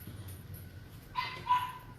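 A dog lets out a couple of short, faint yips or whimpering barks near the end, indoors at a moderate distance, after a quiet stretch.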